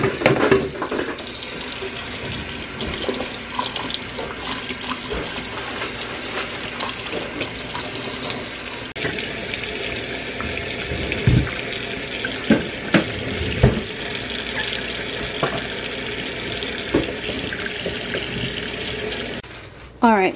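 Water runs steadily from a kitchen tap into a sink during hand washing, a continuous splashing stream with brief clatters and a few faint voices in the background before it cuts off near the end.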